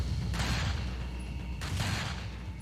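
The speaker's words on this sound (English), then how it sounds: "The gunshots persisted for another minute, and I half expected to go deaf from all this noise." Video game gunfire in two sustained loud bursts of rapid shots over a constant heavy low rumble, with no talking.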